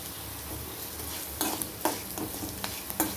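Pirandai and dried red chilies fry in oil with a steady, close sizzle, punctuated by a few sharp stirring scrapes against the pan.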